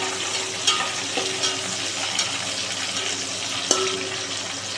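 Wheat khichdi with ginger is stirred as it fries in a pan, giving a continuous close sizzle with occasional scraping knocks of the spoon against the pan.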